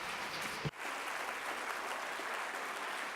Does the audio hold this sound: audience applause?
yes